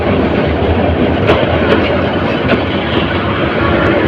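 Sagar Express train pulling out of Bhairab Bazar junction, a steady broadband rumble of rolling carriages with faint intermittent clanks, close and continuous without any talk.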